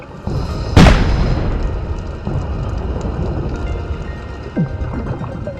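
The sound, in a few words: person doing a cannonball jump into water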